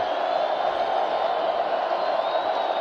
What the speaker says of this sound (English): Crowd getting loud. It's a sellout again.